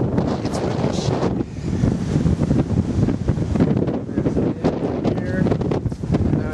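Strong gusty wind blows outdoors in Richmond, Virginia, buffeting the microphone in a loud, continuous rumble, with a voice talking faintly underneath.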